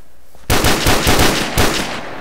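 A newly added gun in a modded video game fires in rapid bursts, loud and close, with several sharp volleys following a brief quiet start.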